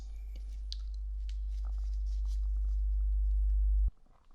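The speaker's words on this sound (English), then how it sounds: "The tones are going to increase in volume." A steady pure hearing-test tone rises gradually in loudness for nearly four seconds, then cuts off abruptly, with faint soft mouth and handling noises around it in a quiet room.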